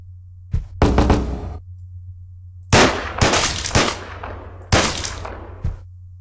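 Gunshots in the video game Deadbolt: several sharp, loud shots in quick pairs and singles, separated by short pauses, over a low steady hum, with no talking.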